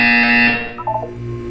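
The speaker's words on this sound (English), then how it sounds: "You will hear a buzzer." A buzzer from the video game Portal 2 sounds once, loud and close: a steady harsh electronic tone lasting about half a second, then cutting off into quieter tonal game sounds.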